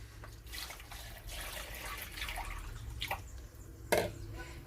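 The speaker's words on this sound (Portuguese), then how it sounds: "nós vamos pegar 1 litro de água, vamos colocar aqui" Water trickling and splashing as one litre is poured into a bowl for washing kale, a steady close stream over a few seconds with a sharper splash near the end.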